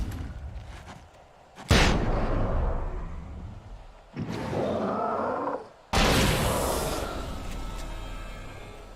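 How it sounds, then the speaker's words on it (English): Flashbang explosions and gunfire in the Alan Wake video game: three heavy bursts, each a sharp loud blast that decays into a long rumbling roar, separated by quieter stretches, with no talking. "the flashbangs are better for panics. They hurt me a bit too, but it kills them when I panic"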